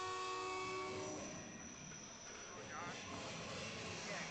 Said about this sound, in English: I'm hearing a train approaching Bellevue.